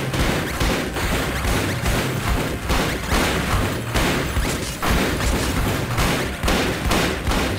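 Rapid video game gunfire from Circuit Breakers bursts continuously, dense volleys of shots and booms crowding each other throughout with no pauses.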